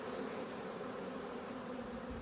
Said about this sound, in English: How long is that bee going to live for?